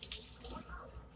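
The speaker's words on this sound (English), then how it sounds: "let me rinse my hand" Tap water runs and splashes faintly as a hand is rinsed under it, a brief soft wash of flowing water.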